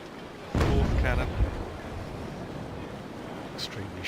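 A single heavy cannon shot from a ship's broadside in the naval video game Naval Action 2 booms loudly and decays into a rumbling tail, followed by wind and wave ambience.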